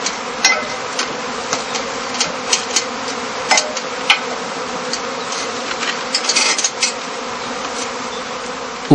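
A swarm of honey bees buzzes densely and steadily at a heathland heather skep apiary, a skep set on the eaves, with scattered sharp clicks and knocks breaking through the drone.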